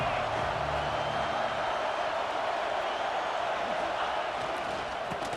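A stadium crowd roars steadily in the EA Sports College Football 26 video game during a Texas versus LSU matchup, a dense continuous wash of noise with a commentator speaking briefly over it.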